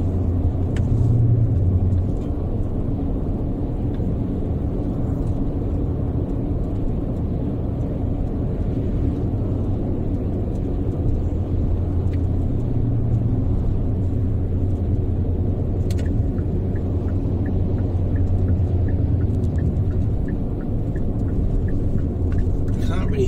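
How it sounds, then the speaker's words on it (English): A car driving down the road from Malaga into Antequera, its steady low rumble of engine and tyres continuing throughout under a voice talking inside the cabin. "we're driving down now into Antequera"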